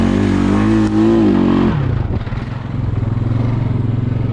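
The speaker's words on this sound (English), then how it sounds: "We're in four-wheel drive" Vehicle engine in four-wheel drive on a construction site, a loud steady drone that drops in pitch partway through as it labours, with scraping and clattering over the rumble and no talking.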